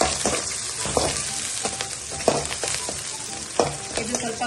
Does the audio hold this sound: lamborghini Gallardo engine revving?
no